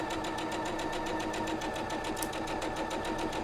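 A sewing machine running steadily while stitching quilt fabric for a flying geese zig zag block, a close, even, rapid mechanical whir with a regular stitching pulse and no voices.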